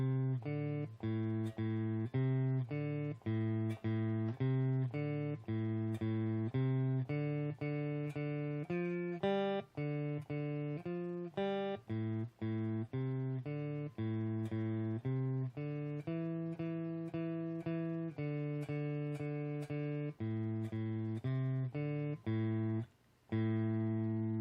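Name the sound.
guitar playing a riff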